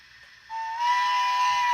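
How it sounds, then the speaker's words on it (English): A model train locomotive sounds its whistle in one sustained, loud, steady tone that swells after a brief onset, alone without talk. "can blow the whistle"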